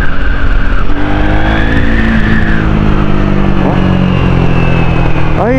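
A new Triumph motorcycle on a test ride gives a loud, continuous engine drone with rising and falling pitch as it accelerates and shifts, heard close throughout.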